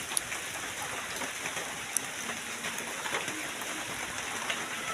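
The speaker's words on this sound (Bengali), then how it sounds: "আকাশ পরিষ্কার দেখা যাচ্ছে, কিন্তু বৃষ্টি পড়তেছে।" Steady rain falling outdoors near rice paddies, a dense, even patter with occasional louder drops, continuous from start to finish at moderate volume.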